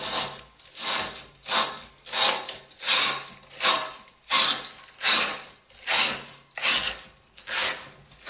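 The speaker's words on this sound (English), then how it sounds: "The next thing we'll do is use a 3/4 inch plumber's brush to clean" A 3/4 inch plumber's brush scrubbing out the cartridge hole of a Moen single-handle faucet, a steady back-and-forth rasping with about ten regular strokes, close and fairly loud, with no talk.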